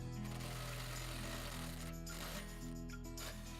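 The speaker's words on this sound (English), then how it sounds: "So now let's go ahead and remove our locking bolts." A power tool, likely an impact driver, buzzes continuously as it backs the locking bolts out of a Turning Point pin box, a loud rattling hum with short dips in pitch.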